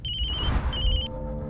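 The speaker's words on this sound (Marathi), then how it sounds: "बघा, तुमच्याच भावाचा फोन आहे।" A telephone rings indoors in a Marathi TV drama scene: two bright electronic ring bursts separated by a short gap, fairly loud and close, with no talking over them.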